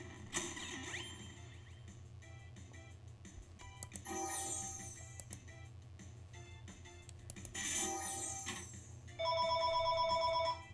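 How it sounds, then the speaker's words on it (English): A telephone bell rings in bursts over a steady low background hum, with a sharp electronic trilling ring repeating near the end, loud and close with no one talking. "The phone's ringing."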